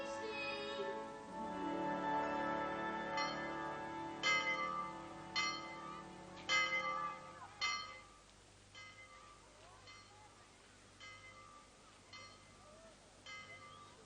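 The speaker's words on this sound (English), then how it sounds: "Call-over bell quite confuses me." A school call-over bell rings in slow, separate strokes, each leaving a long resonant ringing tail, loud at first and then gradually quieter.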